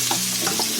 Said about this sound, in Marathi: त्याच्यासाठी कांदा टाकलाय फ्राय करायला